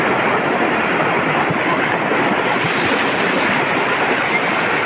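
Floodwater of a stream swollen by heavy rain in a village rushes in a loud, steady, unbroken roar that runs close and continuous throughout, with no talking.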